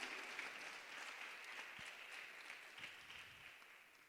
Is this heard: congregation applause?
yes